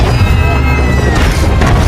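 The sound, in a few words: helicopter blown up by firecracker explosion in a movie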